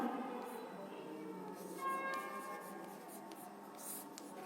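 Writing on a board during an English grammar lecture at a school comes through as continuous faint scratching and rubbing strokes, with steady low room noise behind it.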